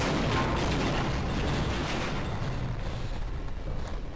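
Frag grenade explosion in a Half-Life video game, a dense broadband roar of blast noise that holds steady and slowly fades over a few seconds, loud and close.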